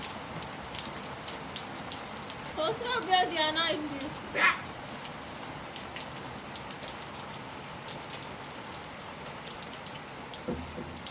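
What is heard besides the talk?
rain falling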